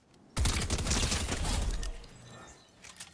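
Combat SMG fired in a video game: a sudden loud burst of rapid automatic fire that lasts over a second, then fades into a softer tail with a few scattered later shots.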